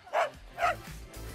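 Great Danes give two loud, deep barks about half a second apart, then a quieter growly low rumble trails off, with no voices over them.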